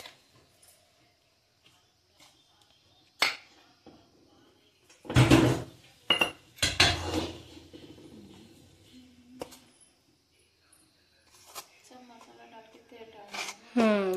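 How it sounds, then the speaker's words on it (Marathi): A spoon stirs hot oil into rice flour in a bowl, giving scattered scrapes and clinks, with a louder burst of mixing in the middle and a voice speaking briefly near the end. "हे गरम तेल आहे ते मी आता ह्याच्यात घालणार आहे आणि चम्मचच्या साहाय्याने मिक्स करून घेणार आहे व्यवस्थित।"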